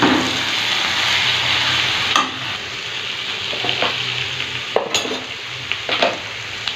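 Mutton masala sizzles and fries in a pan while a spoon stirs it, steady loud frying with occasional sharp scrapes and clinks against the pan.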